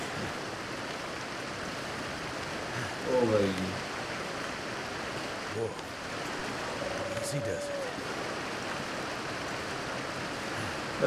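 A flowing river in a video game runs as a steady, soft wash of water noise beneath a man's brief exclamation, continuous and moderately faint throughout.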